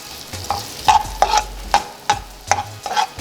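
Onions sauté in a pan for keto cauliflower fried rice, a steady close sizzle broken by about eight sharp scraping stirs of a utensil against the pan.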